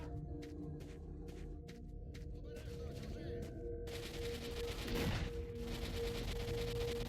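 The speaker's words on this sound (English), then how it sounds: "I hear some gunfire going on." Gunfire echoes in the video game S.T.A.L.K.E.R. Shadow of Chernobyl, with a string of sharp cracks at first, then a louder, denser burst of shots later amid continuous ambient game noise.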